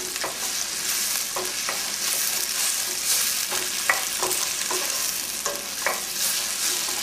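Vegetables for pea soup sweat and lightly fry in a pot, a soft steady sizzle with occasional stirring clicks and scrapes, close and continuous with no talking.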